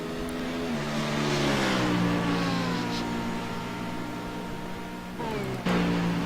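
BMW race cars lapping a race track, engines droning loud and steady with pitch shifting up and down through the gears, and a sharp rise near the end as a car accelerates.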